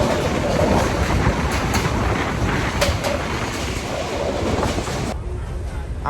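A passenger train moving along the line in the morning gives off a steady rumble and clatter of wheels on rails, heard from on board with wind rushing past, close and continuous, without talk.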